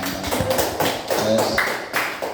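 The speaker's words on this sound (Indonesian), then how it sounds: "Tepuk tangan untuk kelompok 2." Classroom applause for a student presentation group, a short burst of uneven hand claps and taps close by, lasting a couple of seconds with scattered rhythm.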